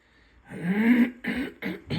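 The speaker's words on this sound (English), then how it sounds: "Sorry for my clearing my throat." Someone close by clears their throat in a few rough, raspy bursts, one long and then two shorter ones.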